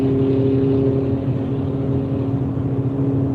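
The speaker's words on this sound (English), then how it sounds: "There goes a GT86. There he goes. It's loud exhaust, slow car." Toyota GT86 with a loud aftermarket exhaust passing nearby, a steady droning engine note heard from inside a car, fairly loud and continuous with no talking.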